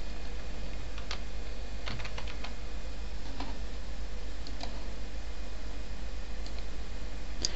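Fingers type text on a computer keyboard in bursts of light clicks, with short pauses between runs of keystrokes, heard close over a steady hum and hiss.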